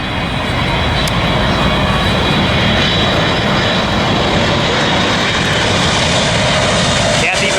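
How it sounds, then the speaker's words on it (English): A jet airliner roars steadily while coming in to land at LAX, loud and continuous broadband engine noise throughout, with a person talking over it. "Beautiful planes coming in."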